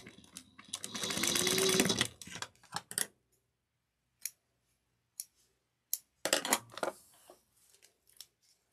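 A sewing machine back-stitches across fabric at 3/8 inch in a short, close whirring burst. Scattered clicks and handling sounds follow in the quiet afterward.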